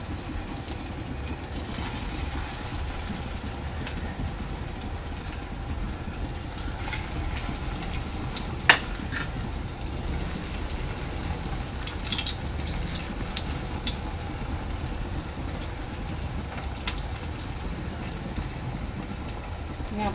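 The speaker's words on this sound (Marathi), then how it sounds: "आता इथे आपलं तेल चांगलं गरम झालेलं आहे, ह्याच्यामध्ये मी आता नगेट्स सोडते" Sabudana nuggets dropped into hot oil to deep fry: a steady, soft, bubbling hiss runs throughout, with a few faint pops and light clicks, close by and fairly quiet, with no talking.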